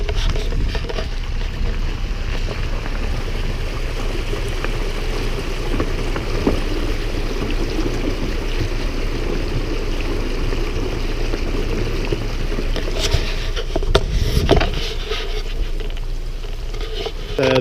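Symmes Creek running high after heavy rain, a steady rushing wash of flowing water that holds constant and fairly loud throughout, with a few brief clattering sounds near the end and no talk.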